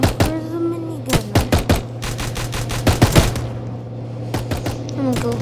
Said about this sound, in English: Where's the minigun?